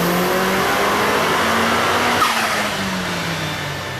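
Turbocharged four-cylinder Mazda Miata engine pulling hard, a loud, close drone rising in pitch, then dropping after a shift and climbing again.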